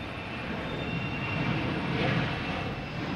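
An airplane at Boston Logan Airport gives a steady broad engine roar that swells slightly in the middle, heard from a moderate distance with no talking.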